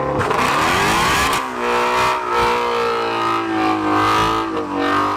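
A Shelby Mustang GT500 exhaust roars loudly and close, rising through revs with a sharp dip and rebuild partway, then holding a deep sustained drone with wavering pitch.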